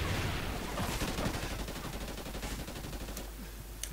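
Sustained bursts of video game gunfire in a jungle setting, loud and continuous at first and then thinning into scattered shots near the end.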